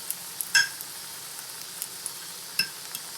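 Spam slices frying in a pan, a faint, sparse sizzle with a few sharp pops and crackles scattered over a quiet hiss.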